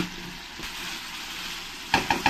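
Curd chicken stir-frying in a pan, a soft continuous sizzle followed by three quick scraping stirs near the end, fairly faint and without speech.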